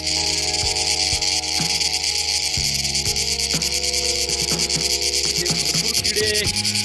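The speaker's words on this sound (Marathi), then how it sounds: "हा जो आवाज येतोय तुम्हाला, हा आवाज येणारा किडा दाखवतो मी" A cricket-like insect at the Saptashrungi hill ghat route chirps loudly and nonstop in a dense, rapid trill, close by, with faint occasional knocks and shifting tones underneath and no talk.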